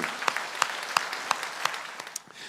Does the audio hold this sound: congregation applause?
yes